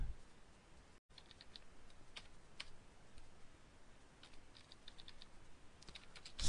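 Scattered clicks of computer keyboard keys pressed in short bursts, faint and close, with a quiet room hum underneath and no talking.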